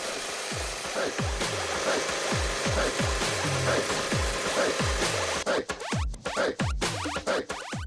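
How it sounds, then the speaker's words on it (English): Metal cutting on a milling machine, a rapid series of repeated scraping, chattering cuts that continue steadily and then turn choppier and more intermittent toward the end, loud and close. "Then back to the mill to finish off the machining."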